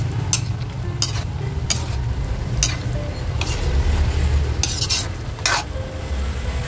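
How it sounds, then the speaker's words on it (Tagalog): A utensil scrapes and stirs sautéed mixed vegetables for Filipino pinakbet in a pan, with a soft steady sizzle beneath and occasional metallic clinks, close and alone. "Ayan, haluin natin."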